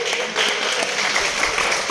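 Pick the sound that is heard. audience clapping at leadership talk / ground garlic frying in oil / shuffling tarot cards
audience clapping at leadership talk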